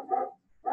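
A pet dog barks twice in a home during an online class, with short, sharp, fairly close barks separated by a brief silence.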